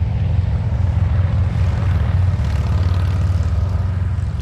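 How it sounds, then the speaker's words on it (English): Motorcycles passing on a road, a loud, steady low engine rumble that holds close and strong throughout with no talking. "Definitely bikes."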